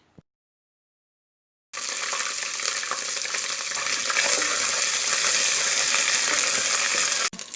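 Ginger frying in a pan: after a near-silent start, a loud, continuous sizzle rises and holds steady for several seconds before cutting off abruptly.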